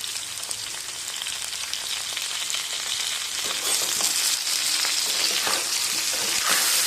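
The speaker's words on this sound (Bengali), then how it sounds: "ভেজে নেওয়ার এই পর্যায়ে বেগুনগুলো দিয়ে দেবো।" Eggplant pieces frying in hot oil for a hilsa fish curry with potato, a dense steady crackling sizzle that grows slightly louder and busier toward the end, with faint stirring and no talk.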